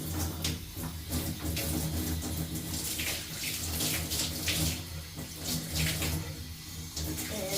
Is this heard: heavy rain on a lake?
no